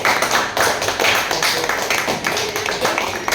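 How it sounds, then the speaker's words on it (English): A classroom full of students claps for a classmate's answer, a dense, steady burst of overlapping hand claps lasting a few seconds at close range. "So clap for him."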